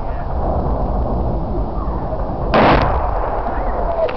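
Friendly artillery round exploding close by in wooded terrain, a single heavy, loud booming blast that cuts through steady background noise midway and then rolls away.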